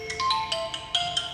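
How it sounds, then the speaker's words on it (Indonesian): A phone ringtone for an incoming call plays alone, a bright electronic melody of short repeating tonal notes lasting just over a second with no voices. "Ada telepon. Bentar ya telepon."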